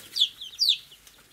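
Young Polish hens with crested heads making soft high chirps and clucks, two or three short calls close by in a quiet setting.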